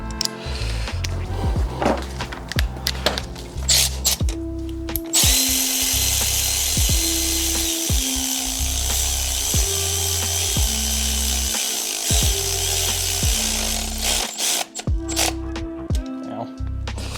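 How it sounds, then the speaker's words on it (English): An electric ratchet runs down a head bolt on an M156 engine in a home garage, firing in repeated short bursts of buzzing, clattering rotation separated by brief pauses and clicks, loud and close. "I might run this down with my electric ratchet"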